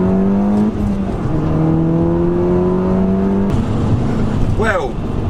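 A Stage 2 2007 Audi S3 with a manual gearbox accelerates hard from inside the cabin, the engine note climbing through gears with a drop at each shift, loud and close, while a voice talks over it.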